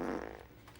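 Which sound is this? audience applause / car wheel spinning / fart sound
fart sound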